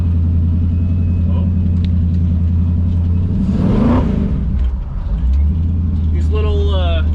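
LS-swapped 1957 Chevy engine with a steady low rumble that swells into a loud rev around the middle, tires spinning on snow, then settles back to idle; nearby sounds toward the end.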